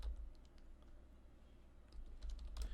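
Soft, quick key taps from a computer keyboard patter faintly and irregularly while coding a web page, close but low in level over a steady background hum, with slightly busier clicking toward the end.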